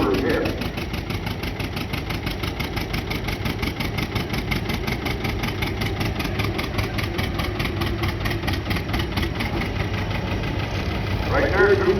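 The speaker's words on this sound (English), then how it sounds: "Getting down to where you can count the number of times the cylinder hit." Engine of a 12,000 lb class pulling tractor at a heritage weekend tractor pull in Lanesville, Indiana, a loud steady rapid train of individual cylinder firings, with a voice briefly heard near the end.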